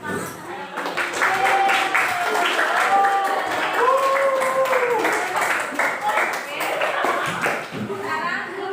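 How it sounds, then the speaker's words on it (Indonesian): Schoolchildren in a classroom clap together after a group presentation, a close, lively burst of clapping with children's voices and chatter running through it. "kita kasih tepuk tangan."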